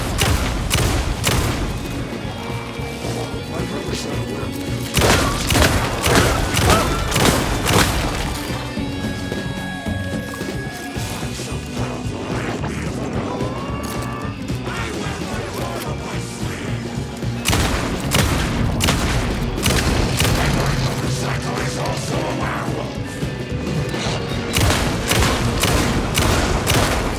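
Gunfire and explosions from Alan Wake 2, Night Springs DLC: loud, repeated shots and booming blasts come in clustered volleys across the whole stretch, with a tonal music bed underneath.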